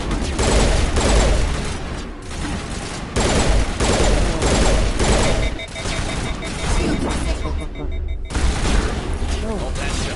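Rapid gunfire rattles in Mass Effect Legendary Edition: loud, close bursts of automatic fire and impacts come in dense waves across the whole stretch, with a voice heard at times.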